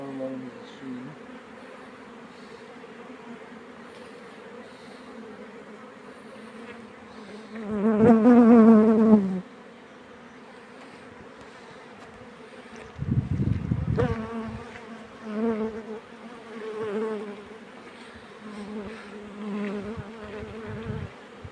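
Bees buzz around an open beehive outdoors, a steady drone with louder swells as insects pass close, while people talk briefly nearby.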